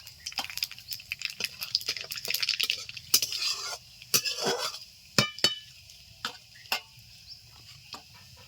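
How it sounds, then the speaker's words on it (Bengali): Nigella seeds tossed into hot oil for tempering in a Bengali home kitchen, cooking for a young jackfruit dish, give a soft sizzle with repeated clinks and scrapes of a utensil against the pan, close and moderately loud, no talking. "এখানে অনেকটাই তেল রয়েছে এক্সট্রা করে আমি আর কোনো তেল দেব না ফোড়নে দিয়ে দিচ্ছি কালো জিরে"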